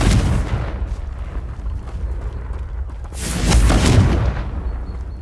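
Confringo fire spell blasting in Hogwarts Legacy: a booming explosive burst opens, rumbles down, then a second loud blast swells near the end, with low crackling debris throughout and no talk.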